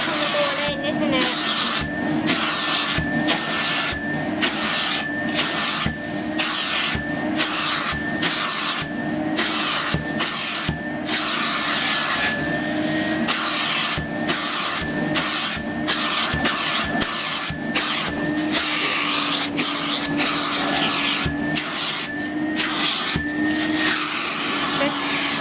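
A Henry Hoover vacuum cleaner runs steadily with a continuous whining drone throughout, while people talk over it.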